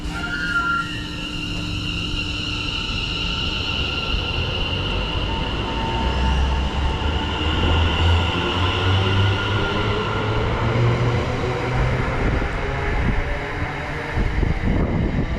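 A train pulls out of a station in Cambridgeshire bound for Stansted Airport, a steady rumble of wheels and traction noise with faint squeals, continuous and close, wind buffeting the microphone, no voices.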